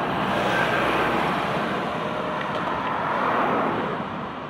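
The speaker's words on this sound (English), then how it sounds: "Another car is coming." A car passes along a village road in Wadi Musa, Jordan, a steady broadband rush of tyres and engine swelling and fading, with wind noise and no talk.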